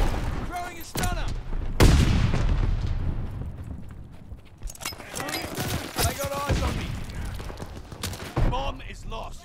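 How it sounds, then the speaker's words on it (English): Grenade explosions and gunfire in the shooter Call of Duty: Vanguard, played in Search and Destroy mode, with loud booming blasts and scattered sharp shot volleys, some close and punchy, others lighter, with voice callouts between them. "Throwing grenade."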